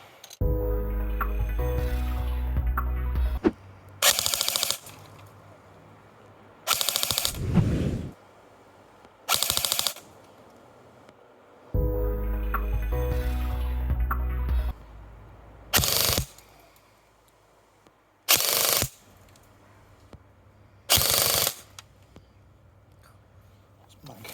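A KWA T6 airsoft rifle fires in several sharp bursts separated by pauses, some bursts stopping short as empty magazines misfire, with a voice talking in the gaps.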